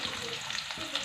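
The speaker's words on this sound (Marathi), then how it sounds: "लसूण छान आपल्याला लाल रंगावरती परतून घ्यायचा आहे." Chopped garlic and a large finely cut onion sizzle in hot oil in a pan while being browned for an okra stir-fry, a steady close crackling hiss with no voices.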